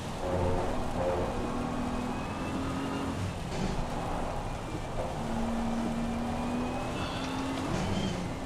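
Race car spinning in Assetto Corsa Competizione at COTA, a continuous loud engine drone with sliding pitch sweeps and tyre noise, other cars passing, steady throughout.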